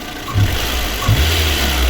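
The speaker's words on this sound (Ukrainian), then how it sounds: "Ось так він працює наш двигунчик." A VAZ 2109 car engine idles steadily after a cylinder head repair, with a loud, even mid-range hum and a couple of slight rises, close up and with no speech over it.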